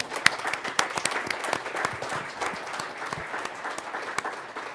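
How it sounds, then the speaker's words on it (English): A large audience gives a hearty round of applause at a school governing board meeting, dense clapping sustained steadily throughout with sharp individual claps standing out, no talking over it. "let's give them a really big round of applause"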